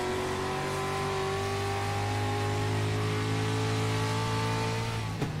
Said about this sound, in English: Look how angry and aggressive these street stocks sound.